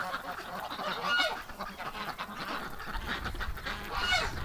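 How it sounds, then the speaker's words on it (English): Ducks on a cold early-spring day give a string of honking, quacking calls at moderate distance, rising and falling over a soft background murmur. "These ducks are having too much fun."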